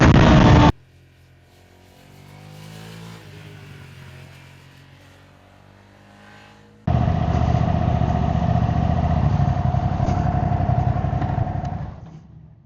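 A Ducati Hypermotard V2 motorcycle engine while riding: a brief loud burst, then a quieter rushing passage, then a loud, steady engine drone with a sustained tone that holds for several seconds before cutting off.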